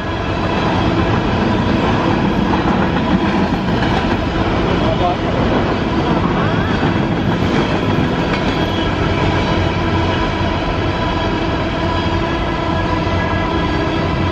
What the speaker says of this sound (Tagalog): Haba guys ng tren,